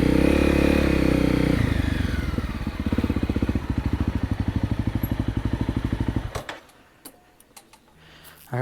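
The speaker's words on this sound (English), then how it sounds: "This is my new to me 2003 Kawasaki KLX 400R." A 2003 Kawasaki KLX 400R motorcycle engine runs close by, holding a steady loud throb that settles into a rapid even idle pulse, then cuts off abruptly, leaving quiet with faint rustles.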